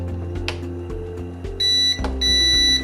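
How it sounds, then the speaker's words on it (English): Two-tone electronic beeps from an HS170 Predator RC quadcopter drone controller sound twice, each a steady high tone lasting about a third of a second, over a low constant hum. "the beeping is pretty noisy, which could be a little annoying to some people"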